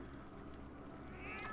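A cat meows in Zelda: Twilight Princess HD, one short drawn-out mew near the end over a steady low game backdrop, fairly faint and with no voices.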